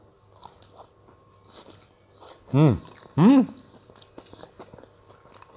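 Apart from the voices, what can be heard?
biting and chewing fried wonton (pangsit goreng)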